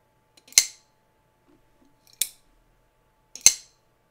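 A folding knife blade fires open and slams against its stop pin, giving three sharp, crisp metallic snaps spaced about a second apart, close and alone with quiet in between.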